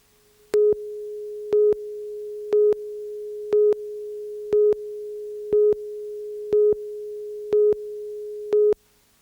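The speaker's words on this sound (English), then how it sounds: "Onboard computers warning him that an enemy aircraft has locked him in its sights." A steady electronic tone beeps in regular pulses, about one per second, each a short flat-pitched burst, loud and repetitive with silence between: an FA-18 Hornet's warning that an enemy aircraft has locked on.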